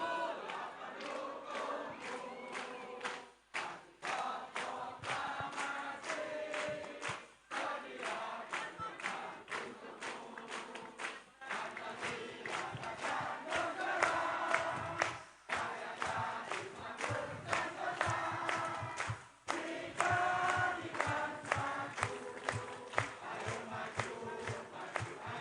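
A large crowd at an outdoor religious gathering in Indonesia chants together in a loud, continuous roar, with rhythmic percussive slaps punctuating the chant throughout.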